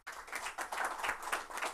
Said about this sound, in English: giving him a big hand clap